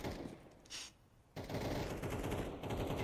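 Rapid automatic gunfire rattles in Counter-Strike 2, with a burst of shots, a brief pause, then sustained loud volleys of close-range shooting.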